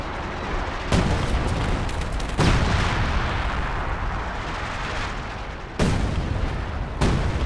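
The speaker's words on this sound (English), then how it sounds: "See that shell, we fired here with the artillery" Sexton artillery shells in Company of Heroes 2 fire and explode as several heavy booms, spaced a second or more apart, over a continuous rumbling battlefield din.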